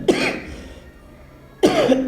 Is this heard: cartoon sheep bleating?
no